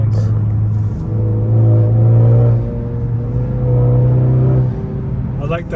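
A Honda Accord 2.0T with a Borla cat-back exhaust revs in short pulses, a deep, steady drone rising and falling near the listener, with a brief quiet dip between pulls and a faint voice near the end.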